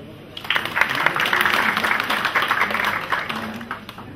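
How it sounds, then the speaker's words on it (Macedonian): A crowd applauds steadily for a few seconds at a Lions Club charity event, a sustained wash of clapping at moderate volume. "ви молам за аплауз"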